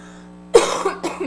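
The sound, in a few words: deep chesty cough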